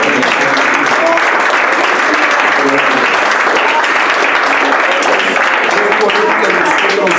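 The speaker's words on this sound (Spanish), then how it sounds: "¿Por qué no le damos a Cristo un aplauso?" A church congregation breaks into loud, sustained applause for Christ, dense clapping that holds steady from start to finish, with voices mixed faintly into the noise.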